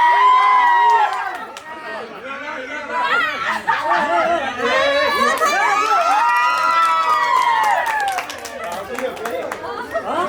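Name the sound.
crowd hooting and cheering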